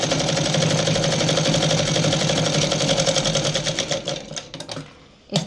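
A sewing machine runs a steady, fast rhythmic stitch on a petticoat seam for about four seconds, then slows, stutters and stops, leaving a quiet tail.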